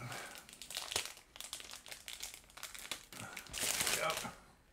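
A plastic bag of white parts from an Accurate Miniatures McLaren M8B model kit is torn open and handled, with close crinkling and rustling that comes in uneven bursts and swells louder near the end.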